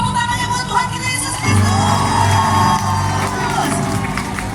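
A crowd cheers and whoops at a concert for the 110th anniversary event, loud and continuous throughout, a dense wash of voices with music underneath and no clear clapping.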